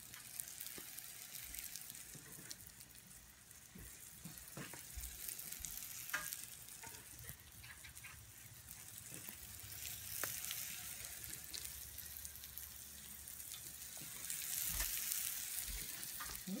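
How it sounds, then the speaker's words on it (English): Biscuits fry in a pot on a woodstove, a continuous close sizzle with crackling spurts and occasional clinks and scrapes throughout, swelling louder near the end. "This is almost in a way what you'd call like a fried biscuit."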